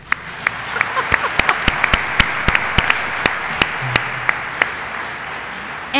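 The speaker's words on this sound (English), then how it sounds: "let's applaud him anyway." Audience applause at a church anniversary recognition, a broad ongoing patter of many hands with several sharp, loud individual claps standing out close by at irregular intervals.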